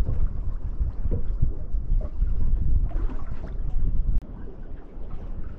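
Wind buffeting the microphone on a UK fishing boat at sea, loud low rumbling gusts that roar continuously, then drop abruptly near the end, with no speech.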